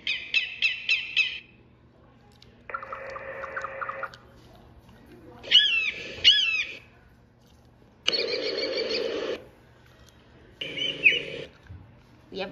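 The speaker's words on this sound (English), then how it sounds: "Eagle!" Bird calls from a sound app labelled as an eagle: several separate bursts of shrill, harmonic screeching cries, some fast repeated, others sustained, each loud and close with short silent gaps between them.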